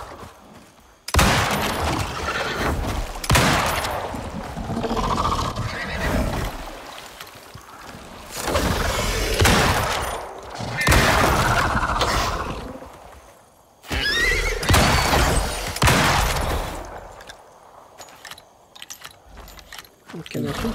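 A horse neighs and whinnies repeatedly while being shot in the survival video game Icarus, with loud, urgent calls coming in several long bursts that are mixed with gunfire and hoof or movement noise.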